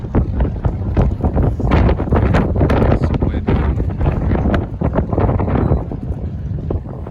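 Strong wind buffets the microphone in gusty, roaring bursts, loud and close, around a trembling flag outdoors at the Olympic trials.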